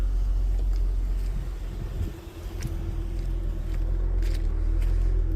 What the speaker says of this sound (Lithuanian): dirba dujomis, kol karštas.